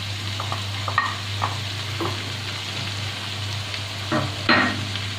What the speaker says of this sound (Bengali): চিংড়ি মাছ, মশলা, আলু, মোচা ভালোভাবে মিশিয়ে নিচ্ছি।